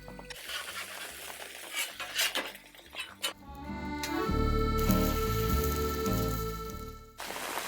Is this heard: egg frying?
yes